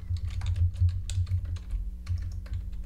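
Quick, close typing on a computer keyboard, a rapid run of light clicks in uneven bursts with a short pause, with no speech.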